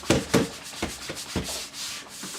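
A Vax Automop scrubbing a hard floor by hand, close rubbing strokes in a few uneven pushes that fade into a softer continuous scrub.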